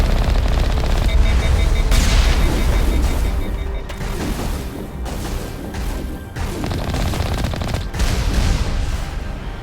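Enemies in Mass Effect: Legendary Edition pour continuous, heavy automatic fire at the player during a battle against a matriarch, a loud, dense rattle with crashing impacts and booms layered through it.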